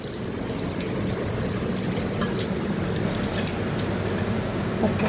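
Steady running water from a shower rinsing a dog, a broad continuous hiss and splash at close range that lasts throughout, with no voices over it.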